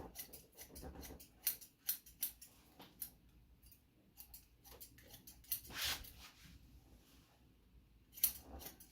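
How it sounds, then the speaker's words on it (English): Sharp snipping of thinning scissors cutting hair comes in irregular bursts, close up and fairly quiet, with brief pauses between cuts. "You can also use the thinning scissors instead of just a regular"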